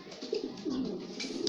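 Soft, low cooing calls from pigeons, a few rounded coos close by against a quiet background.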